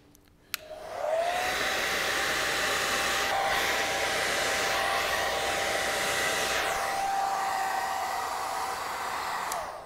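A hair dryer blows hot air onto a beard in a steady, loud, continuous whoosh with a high whine, running alone without speech.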